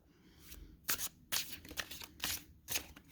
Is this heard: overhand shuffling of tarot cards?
yes